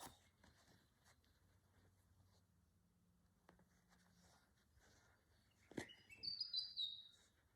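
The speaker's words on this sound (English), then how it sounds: "You can hear some birds." Birds chirping outdoors, heard through an open door on a calm day, with faint scattered tweets at first and then a brighter, closer burst of high chirps near the end, over quiet room noise.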